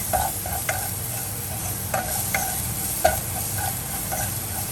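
Vegetables sauteing in a pan before yogurt is added for a moru curry: a steady sizzle with soft, periodic scrapes and taps of stirring.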